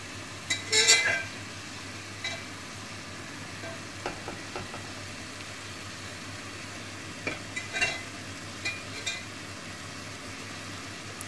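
A spoon stirs sweet zarda rice in a pot, giving a few scraping, clinking strokes at the start and scattered soft taps later over a quiet, steady background hiss.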